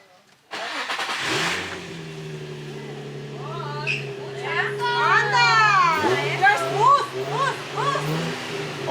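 A cold drift car engine starts and idles with a low steady drone, then revs up sharply while excited voices talk and exclaim over it nearby.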